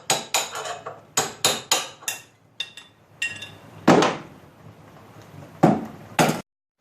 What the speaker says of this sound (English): we're going to remove the old bushings from the front axle